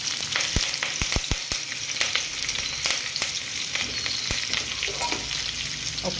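Chopped onion and curry leaves crackle and sizzle steadily in a hot pan, with a few sharp low thumps early on as pieces drop in, then a continuous bright frying hiss throughout.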